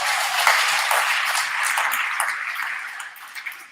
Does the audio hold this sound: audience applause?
yes